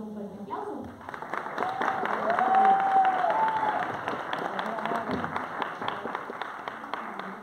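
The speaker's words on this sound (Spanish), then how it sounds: "Recibámoslos por favor con un fuerte aplauso." An audience at a dance performance in a park venue breaks into sustained applause and clapping that builds to a peak and continues, with a voice briefly audible over the crowd.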